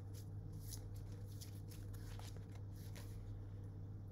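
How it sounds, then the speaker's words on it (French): Tarot cards shuffle and are drawn in a soft, continuous papery riffle over a steady electrical hum, close and fairly quiet with a few faint taps. "on va tirer d'autres cartes"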